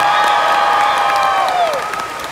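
Crowd at a Star Wars Galaxy's Edge preview event applauding and cheering, a dense, loud, steady wash of clapping with shouts over it, fading slightly toward the end.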